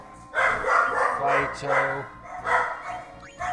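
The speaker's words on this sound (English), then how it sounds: "Dogs are freaking." Several dogs bark in excited bursts somewhere nearby, partly masked by someone talking over them.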